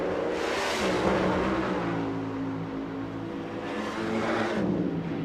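A drag racing funny car engine roars at full throttle, a loud, sustained, harsh blast that swells and fades as the car screams past, heard at a distance with crowd-like wash underneath.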